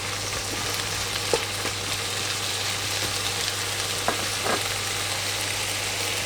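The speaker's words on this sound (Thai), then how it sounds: "อันนี้ก็เอาลงไปผัดคุก ๆเพิ่มกลิ่นหอมนะครับ" Herbs stir-fried in a pan for an Isan-style Thai beef curry with dill: a steady close sizzle with occasional scraping clicks of a utensil, no voices.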